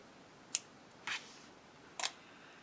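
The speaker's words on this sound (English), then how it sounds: "Now I can cut my yarn." Scissors make three sharp, close snips through yarn while a tassel is being made with a twisted cord. The cuts are evenly spaced in a quiet room.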